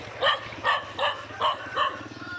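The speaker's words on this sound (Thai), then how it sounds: "มันเห่า" A dog outdoors in a rural village with cattle nearby barks five times in an even rhythm at moderate distance, over a low steady background hum.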